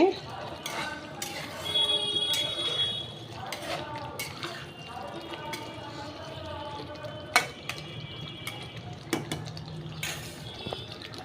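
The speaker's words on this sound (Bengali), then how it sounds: "পটলগুলো দিয়ে একটুখানি কষাতে হবে" Pointed gourd is sautéed in a pan, with utensil clinks and scrapes against the metal over a soft sizzle, and a voice talking at intervals.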